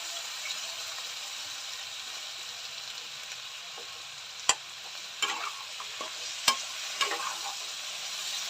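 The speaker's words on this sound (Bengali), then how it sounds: "মশলাটা একটু কষিয়ে তারপর জল ঢেলে দেবো।" Spice paste frying in a pan while fish is being cooked, a steady soft sizzle with occasional scrapes and clinks from stirring, close and fairly quiet, no talking.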